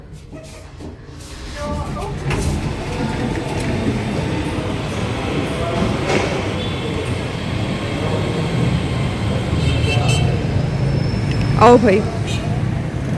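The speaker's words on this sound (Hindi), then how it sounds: "जा रही है मेट्रो बस" Road traffic on Brand Road, Multan, seen from a shopping plaza, as a metro bus passes: a loud, steady rumble of vehicles that swells toward the end, with someone speaking briefly over it.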